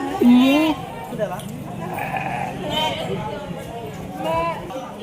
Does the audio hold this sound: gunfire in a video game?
no